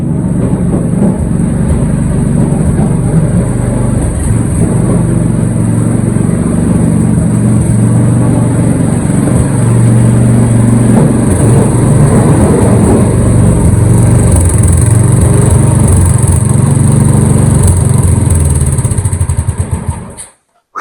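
A snowblower engine runs steadily and loudly outdoors while clearing snow, a constant low mechanical roar holding for about twenty seconds before cutting off abruptly at the end.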